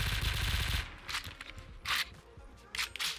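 Gunfire in Call of Duty Minecraft zombies, a dense burst of rapid shots followed by several shorter, separated bursts, moderately loud.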